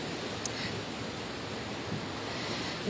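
Storm surf from Tropical Storm Nicole crashes over a seawall in Jensen Beach, a steady broadband roar of churning water and wind with faint surges, continuous and close, with no talk.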